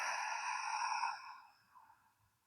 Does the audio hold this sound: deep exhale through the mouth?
yes